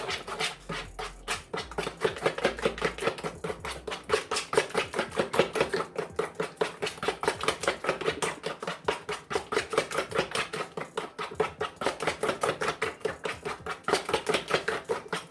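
Banana muffin batter beaten by hand in a bowl without a mixer, a fast, steady rhythm of wet spoon strokes knocking and scraping against the bowl, close and continuous for a long stretch.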